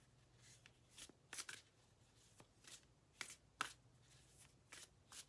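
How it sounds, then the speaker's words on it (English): Tarot cards being shuffled by hand, a series of short papery riffles and snaps in irregular bursts, close and fairly quiet, with no talking. "while I'm shuffling"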